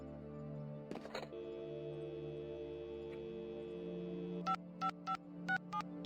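A telephone in the video game Dream Machine dials a number, opening with a couple of clicks and a steady tone, then giving a rapid run of six evenly spaced beeps.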